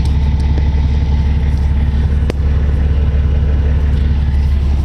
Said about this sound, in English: Truck's warmed up